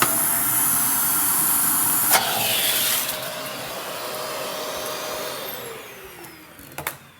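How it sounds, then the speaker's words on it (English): A vacuum cleaner runs steadily with a loud broadband whine while clearing a clogged grinder on a Gaggia Anima espresso machine, its pitch shifting partway through, then fading toward the end with a few clicks. "Turn your vacuum cleaner on"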